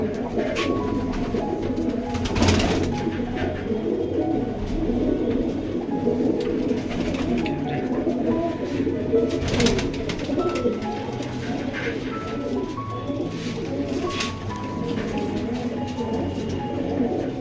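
Pigeons coo continuously and close by, their low throaty calls overlapping against a busy background, with faint voices now and then.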